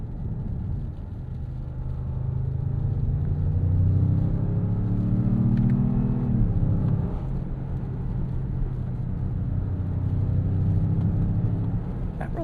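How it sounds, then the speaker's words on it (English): Jeep Grand Cherokee with a Hurricane turbo four-cylinder engine under way, a steady low engine drone and road rumble inside the cabin, rising slightly mid-clip with a shift, then settling into a calm cruise. "Not really a whole lot of drama here with this four-cylinder."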